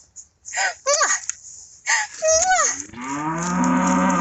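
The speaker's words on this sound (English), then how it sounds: "You see Titi's cow?" Cattle moo on a working farm with irrigation running, several close, loud calls spaced out, the last drawn-out and low, while people talk nearby.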